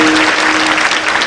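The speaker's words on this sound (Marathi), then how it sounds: "टाळ्या वाजवायच्या तर चांगल्या वाजवायच्या आणि जोरात वाजवायच्या." A kirtan audience claps loudly and continuously, a thick, even burst of many hands close by with a faint steady tone underneath.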